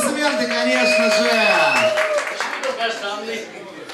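Audience applause greets a performer's entrance on stage, dense clapping swelling through the middle and fading toward the end, with a voice talking over it and other voices and tones mixed in.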